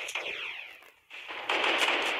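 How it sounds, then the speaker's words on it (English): Automatic weapon fire in Fortnite Mobile, a battle royale game, rattling in quick bursts that drop away briefly and then return louder and denser, with no voices over it. "I'm not pressing any buttons there, it just automatically shoots for me"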